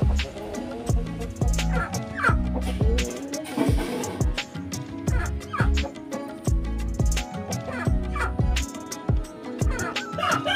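A small Aseel hen about three and a half years old clucks close by in a poultry yard, with repeated short cackling calls in an uneven rhythm over busy background noise and other animal sounds.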